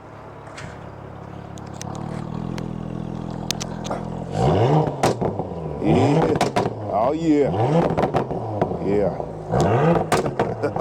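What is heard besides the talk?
Porsche SUV engine revving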